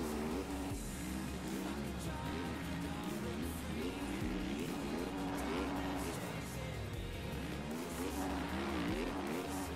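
Motocross bike engines race in the MXGP video game, a dense buzzing whine with shifting pitch as several bikes rev and climb, loud and continuous throughout.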